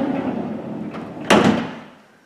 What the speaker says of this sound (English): And then this door latches